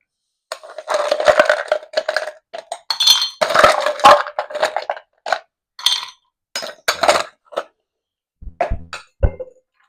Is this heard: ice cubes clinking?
yes